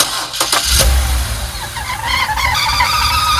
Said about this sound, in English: I'm hearing this like squawking noise on startup.